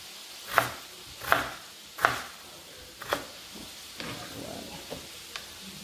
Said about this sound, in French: nous finissons de couper notre pomme de terre